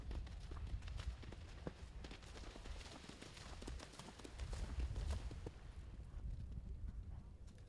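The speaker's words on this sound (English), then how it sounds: "This horse looks like he's just loping around still" Horse galloping on an eventing cross-country course near a water jump, its hoofbeats thudding at a distance amid steady outdoor crowd and field noise throughout.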